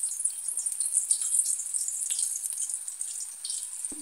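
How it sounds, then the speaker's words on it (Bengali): Thin raw banana slices fry in hot oil in a kadai over medium heat, giving a continuous bright, crackling sizzle that stays close and even, with no talking. "তেলটা গরম হয়ে যেতেই কলাগুলি আমি এখানে ছেড়ে দিচ্ছি।"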